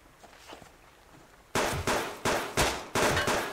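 Gunfire in the video game Subsistence: after a quiet stretch, five loud, sharp shots ring out at roughly even intervals, each with a short decaying tail, close and alone.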